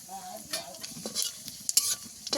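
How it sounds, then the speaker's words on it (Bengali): Bay leaf, black cumin and a dried chili crackle in hot oil in a kadai, with short spluttering bursts and a few scrapes of stirring, close and fairly quiet. "ফোড়নে দেবো একটা তেজপাতা আর অল্প একটু কালো জিরে, একটা শুকনো লঙ্কা কেটে দেবো"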